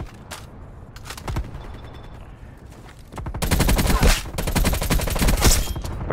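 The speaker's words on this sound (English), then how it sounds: "My teammate's shooting at me." Rapid bursts of automatic gunfire in the shooter game Black Ops Cold War, scattered shots at first, then a dense, loud sustained volley with no talk.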